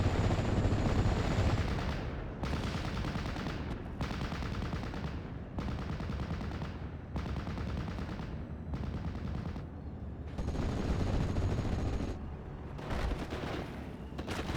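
Field guns firing in a strategy war game, dense bursts of booming gunfire in repeated two-second volleys separated by short gaps, loud and close with no talk.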